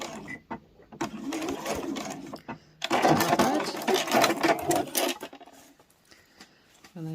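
A sewing machine stitches a mini boxed pouch in quick whirring bursts, pausing and restarting as the seam goes backwards and forwards, with a soft voice talking briefly near the start.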